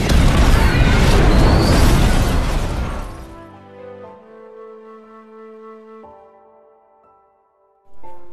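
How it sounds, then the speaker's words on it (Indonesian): A barrel packed with explosives blows up in a loud, crashing blast with scattered debris noise for about three seconds, then fades into low tonal ringing and a brief late thump. "tong berisi bahan peledak yang dibawa Joe pun meledak"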